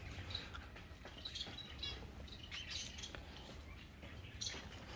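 Birds call and chirp in a quiet outdoor spot, scattered short bright squawks and tweets rising over a soft steady background, moderately distant and irregular.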